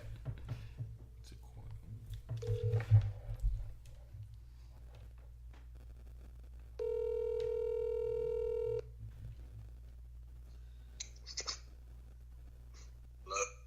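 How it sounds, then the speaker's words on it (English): An outgoing telephone call rings out during a podcast, a single steady electronic ring tone lasting about two seconds, preceded by faint rustling and breathy sounds and followed by small clicks. "Hopefully he answers the phone."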